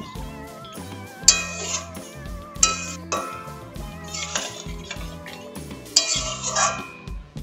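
A spoon stirs pumpkin and potato curry in a metal pan, with repeated clinks and scrapes in bursts over a soft simmer, close and clear, with no talk.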